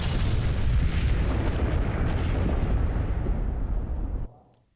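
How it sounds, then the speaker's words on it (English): An imaginary implosion pulse detonates in the Honkai Star Rail video game as one loud, sustained booming blast that rumbles on for about four seconds and then cuts off abruptly. "Imaginary implosion pulse detonates."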